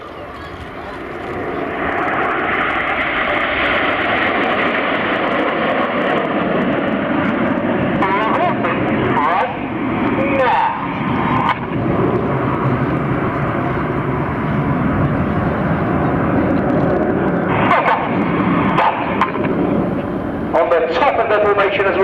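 Red Arrows jets flying in formation at the Shuttleworth air show, a loud, sustained engine roar that swells and holds, with a commentator talking over it on the public address.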